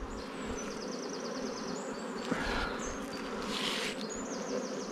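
Honey bees buzz continuously around an open beehive, a dense close hum with individual bees whining past the listener.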